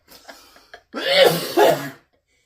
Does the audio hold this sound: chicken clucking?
no